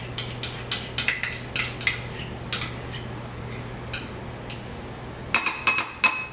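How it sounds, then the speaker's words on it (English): Mayonnaise and lime juice being stirred in a bowl for fish tacos, a run of light utensil clinks and taps against the bowl, some quick and clustered, with a louder burst of clinks near the end over a steady low hum. "throw the rest of it in that bowl and mix away. That's the mayonnaise going in."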